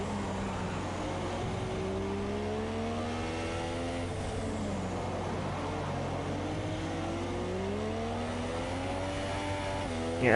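F1 race cars in a British Grand Prix video game race, engines whining and rising and falling in pitch as they accelerate and shift, a continuous loud drone with no voices.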